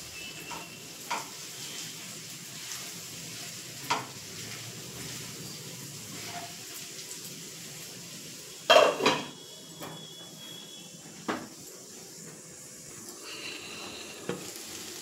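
Chicken fries under a lid in a pan, a low steady sizzle broken by occasional clanks of the lid and utensils against cookware, one louder clatter midway.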